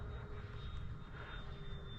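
Freewing F-4 Phantom RC jet cruising at half throttle, a steady airborne whine and rush holding level throughout with no talk.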